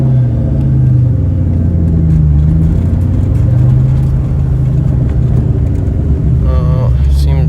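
An SVT Mustang Terminator Cobra drives along with its engine droning in a loud, low, steady rumble that shifts slightly in pitch; someone talks briefly near the end.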